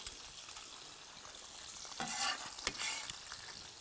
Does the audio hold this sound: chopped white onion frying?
yes